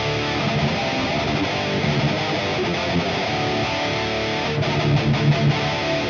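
Electric guitar fitted with an active Fishman pickup set, played with a distorted, effects-driven tone in a steady, continuous stream of notes and chords, close and fairly loud with no voices.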